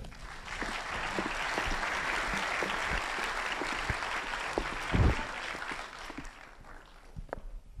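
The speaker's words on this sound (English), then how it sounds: "can I get a round of applause for Annie Nelson?" An audience at a LIFTx 2018 talk at MacDill applauds speaker Annie Nelson with sustained, moderately loud clapping, a few footsteps and thumps as she walks up, then tapering off.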